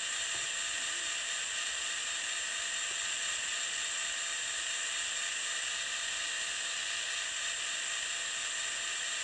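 Diesel engine sound from a DCC sound decoder in an N scale GP38-2 locomotive model installed in an Atlas SD35, played through a tiny speaker as a steady, thin mechanical drone with faint ratcheting texture, running unbroken.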